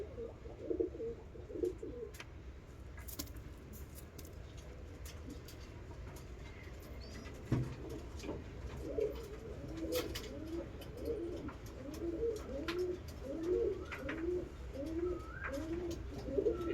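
Pigeons in a breeding loft, soft repeated cooing that grows denser and more rhythmic toward the end, with a few scattered clicks and rustles nearby.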